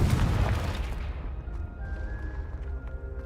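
The Confringo spell in Hogwarts Legacy bursts as a loud booming explosion at the start, then decays into a rumbling tail with faint crackles and a thin ringing tone.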